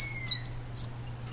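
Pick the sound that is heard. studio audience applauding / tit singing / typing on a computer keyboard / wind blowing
tit singing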